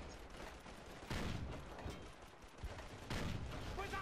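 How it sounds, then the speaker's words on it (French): Bursts of cannon fire in Call of Duty 2: Big Red One: a heavy volley of shots around the one-second mark and another near three seconds, with mechanical rumbling in between. "on prend le canon et on commence à tirer"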